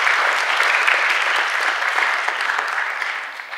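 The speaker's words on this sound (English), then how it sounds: "give a round of applause for the people who took risks to share what they were feeling" A conference crowd claps steadily and loudly, a dense wash of applause that tapers slightly toward the end.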